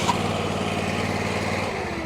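A Vermeer stump grinder engine runs steadily at close range, a loud, even mechanical drone with a brief click near the start and no voices.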